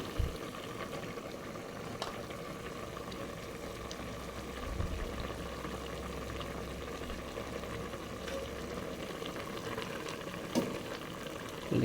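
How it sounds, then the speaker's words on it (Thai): Spicy Thai curry with small fish and eggplant simmers quietly in a pot, a steady low bubbling texture throughout with faint occasional clinks. "เคี่ยวหน่อยนึงนะครับ"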